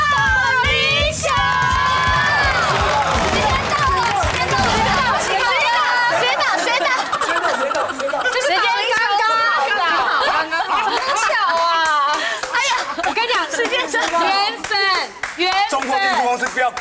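Studio audience applause on a Taiwanese cooking variety show, a dense burst of clapping for the first few seconds that gives way to lively crowd chatter, laughter and overlapping voices.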